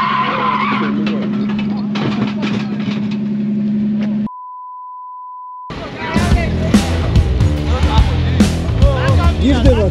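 A drift car with an N55 turbo engine, on its first run with its new engine, skids loudly with a roaring, revving engine. A steady beep cuts in midway, then the engine noise and the tyre skid return harder.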